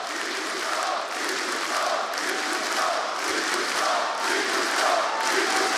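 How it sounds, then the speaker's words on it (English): Loud esports arena crowd at IEM Katowice 2017 during a CS:GO final, a dense continuous roar of cheering and shouting with swelling surges, no clear talk over it. "I'm just going to let the crowd do some analysis"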